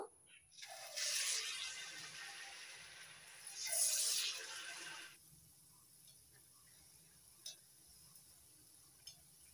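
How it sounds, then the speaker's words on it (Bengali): Palm fritters dropped into hot white oil in a wok, giving two loud, bright sizzling bursts that fade to a low, steady crackle with a few faint pops, with no voices. "তেল গরম হয়ে গেছে, এবার আমি ফুলুরিগুলো ভেজে নেব।"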